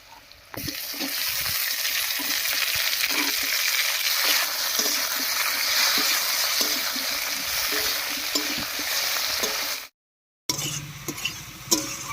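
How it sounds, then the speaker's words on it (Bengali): Chopped tomatoes sizzle loudly in a pan with already-fried onion and potato for a Bengali cabbage ghonto, a steady close hiss with scraping stir strokes, briefly cut off near the end and then resuming. "টমেটোটা দিয়ে একটু নাড়িয়ে নিয়েছি"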